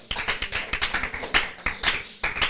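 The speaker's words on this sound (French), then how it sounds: "On applaudit pour elle." A small group claps steadily, a brisk, close round of hand claps without voices, at a Day of the African Child school event.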